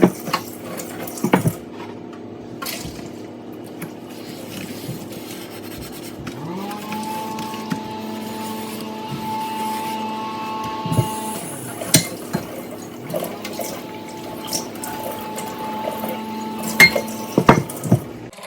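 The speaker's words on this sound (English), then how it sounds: "so I just basically put the dishes on a dish towel to dry" Dishes and kitchenware being set down on a dish towel by a sink to dry, with soft rubbing and clinking of plates against cloth and each other in irregular bursts, close and fairly quiet, with a few sharper knocks.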